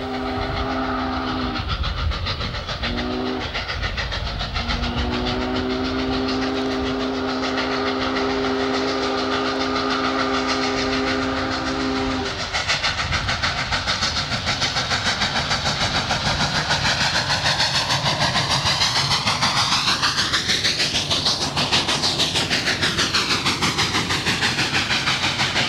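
Union Pacific 844, a giant 4-8-4 steam locomotive, hauling a 5,290-ton freight up the Archer Hill grade east of Cheyenne, loud steady exhaust and hiss with long steam whistle blasts early on, then a roaring pass-by.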